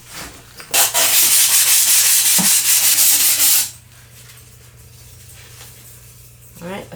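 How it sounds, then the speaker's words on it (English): Sandpaper scrubs wood in a burst of rapid rasping strokes lasting about three seconds, close and loud, followed by quieter handling noises. "let me get my sandpaper and sand this down"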